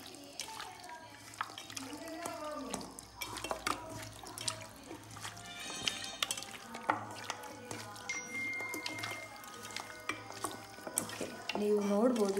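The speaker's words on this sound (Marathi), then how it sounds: "ईग इदन्नु मिक्स माडबेकु" Lemon juice and seasonings being stirred into chicken for lemon pepper chicken, giving steady wet squelching and scraping with clinks against a bowl or pan, close and fairly quiet throughout, with faint background noise and no talk.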